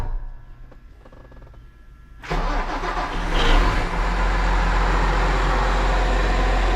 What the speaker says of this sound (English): So I'm gonna hop in and fire it up.